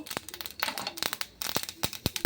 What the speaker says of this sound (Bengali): এটা একটা শুকনো লঙ্কা আর 1 চা চামচ সর্ষে ফোড়ন দিয়ে দিচ্ছি।